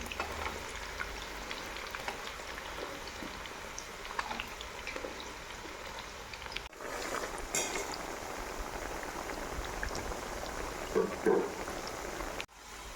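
Carrots frying in hot oil for a mixed vegetable sabji, a steady soft sizzle and crackle with bubbling throughout, a brief clatter near the end, no speech over it.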